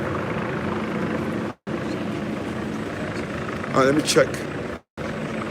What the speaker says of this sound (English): all you can hear above you is a damn helicopter